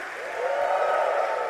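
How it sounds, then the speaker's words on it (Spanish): Church congregation applauding during a sermon, a brief, soft wash of clapping swelling slightly, heard at a distance. "¿Alguien pone un aplauso en serio al Señor?"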